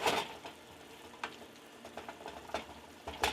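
Green beans cooking in a pan for beef tinaktak give a low steady sizzle, broken by a few louder scraping stirs, close and fairly quiet.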